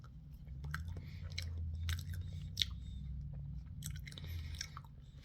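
Someone bites into beef from a food cart and chews it up close. Moist chewing and crunchy bites come in irregular bursts over a low background hum. No talking.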